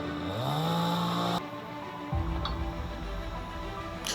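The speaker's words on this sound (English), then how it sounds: "Chainsaw for blackberry removal." A chainsaw engine revs up cutting blackberry bushes and holds a high whine, then cuts off abruptly, followed by a dull thud and quieter rustling.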